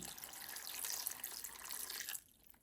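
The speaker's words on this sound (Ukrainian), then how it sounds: "Спочатку води лити небагато." Water pours steadily into a pot for making pumpkin juice, with a bright splashing rush, then stops abruptly, leaving a faint drip and quiet room tone.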